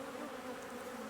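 Honey bees buzz in a dense, continuous drone close by as they are swept off frames during a July honey harvest.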